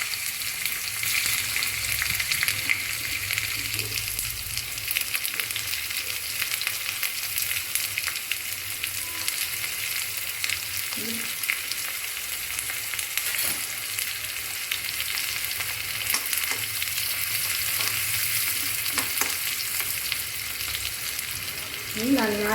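Chopped shallots sizzle in hot oil with crushed ginger and garlic for a fish roe fry. The close, steady frying hiss runs throughout with no talk.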